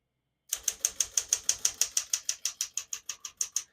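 Crisp mechanical clacks of a 1964 Smith-Corona Galaxie portable typewriter's keys strike in a fast, even rhythm, about twenty keystrokes close up with no talking.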